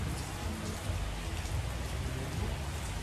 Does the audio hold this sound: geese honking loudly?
no